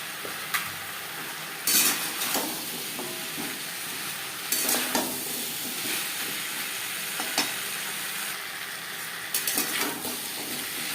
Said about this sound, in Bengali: মশলার সাথে ডাটা আলু 2-3 মিনিট নাড়াচাড়া করে নেওয়ার পর